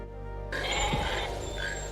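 In a film scene a tethered goat gives a single wavering bleat, loud and close, starting abruptly and trailing off within a couple of seconds.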